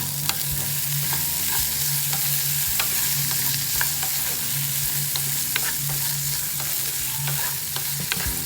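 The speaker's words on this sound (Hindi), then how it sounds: "थोड़ी देर बाद इसमें हरे चने को ऐड कर देते हैं।" Green chickpeas are stirred and fried in a pan for kachori filling, giving a steady sizzle with repeated scraping clicks from the spoon and no talking.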